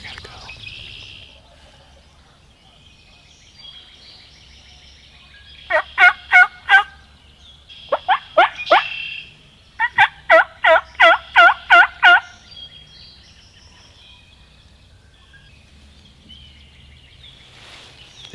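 A wild turkey gobbles on an Iowa public-land spring hunt, several rapid rattling gobbles in bursts at mid distance, some close together, across a quiet outdoor background with faint low rumble.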